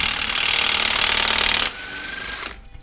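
A loud impact wrench hammers continuously on the 36 mm axle nut of a 2016–2020 Camaro SS for about a second and a half, then cuts off, leaving a quieter mechanical hum and a brief clink.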